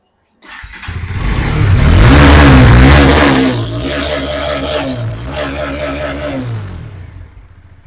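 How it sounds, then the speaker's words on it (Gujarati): A motorcycle engine starts and revs hard, climbing to a loud roar, then settles into repeated throttle blips, close by and without talk. "અવાજ એ જોરદાર છે ગાડીનો"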